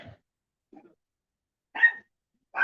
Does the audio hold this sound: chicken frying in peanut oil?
no